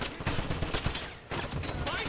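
Dense, continuous gunfire from the 2009 video game Wolfenstein, a loud sustained fusillade of rapid shots with a brief dip near the middle before the barrage resumes, with voices shouting faintly underneath.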